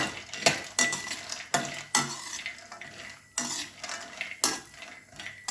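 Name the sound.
cashews frying and stirred in ghee on medium flame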